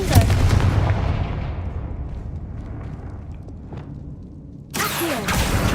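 A Confringo fire spell explodes in the Hogwarts Legacy video game, a loud booming blast that rumbles and fades over several seconds before another burst of impact noise.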